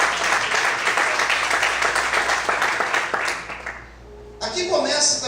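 A church congregation claps together in a sustained burst of applause during a sermon. The clapping fades near the end, and a voice then speaks over the room.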